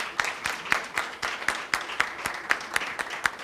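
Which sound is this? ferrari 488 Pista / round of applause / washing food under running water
round of applause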